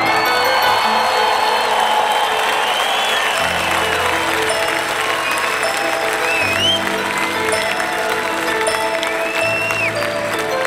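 Loud, sustained arena concert crowd applause and cheering for a pianist at a rock show, dense clapping with whoops and shouts, while low sustained tones sound underneath.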